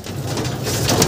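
Soft, low pigeon cooing, close by and continuous through the short moment, with faint rustling behind it.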